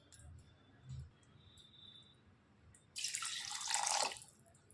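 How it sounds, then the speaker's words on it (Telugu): About two cups of water are poured into bun dosa batter ingredients, a short bright splashing burst of roughly a second and a half after quieter kitchen background with a faint knock, close and without speech. "ఒక 2 కప్పులు వాటర్ వేసుకోవాలి"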